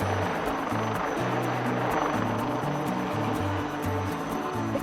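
A HAL Light Utility Helicopter flies rearward during an air show, its rotor chopping out a loud, steady pulsing drone with a throbbing low beat and no break in the sound.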